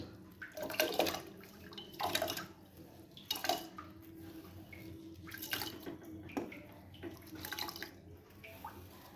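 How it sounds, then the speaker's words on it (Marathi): Washed rice is poured into water in a pressure cooker, producing several soft splashing, sloshing bursts at irregular intervals against a quiet kitchen. "आपण आता याच्यामध्ये तांदूळ टाकूया"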